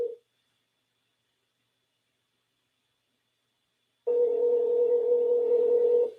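A telephone ringback tone sounds as a call rings out, a short burst followed by about four seconds of silence, then a longer steady tone, clear and alone.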